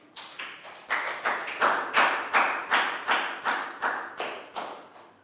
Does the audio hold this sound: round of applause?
yes